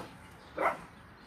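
A single short, moderately loud bark from a dog nearby in a garden, against a quiet background.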